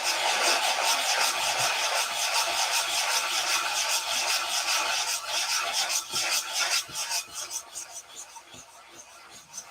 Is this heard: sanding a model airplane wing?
yes